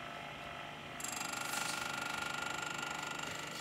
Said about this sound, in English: This is actually a diamond wheel, but we're running at really low RPM so it doesn't overheat high-speed steel.